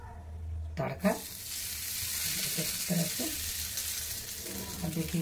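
Tadka tempering for amla chutney, with chillies, curry leaves and mustard seeds, sizzles sharply in hot oil in a pan, a bright continuous hiss that starts abruptly after a brief pause, with small crackles throughout.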